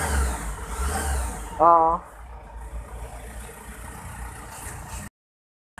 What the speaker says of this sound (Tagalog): umandar na yung ating Isuzu Trooper 2003 Matic